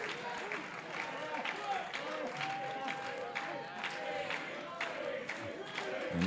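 A wrestling arena crowd cheers, claps and chants to rally behind a wrestler, a steady roar of voices with rhythmic clapping beneath a commentator talking.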